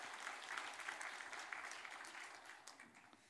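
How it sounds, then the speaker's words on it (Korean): A church congregation at a Sunday service breaks into applause, a steady, moderately distant patter of many hands clapping together over a few seconds. "우리 박수 한번 해주시기 바랍니다."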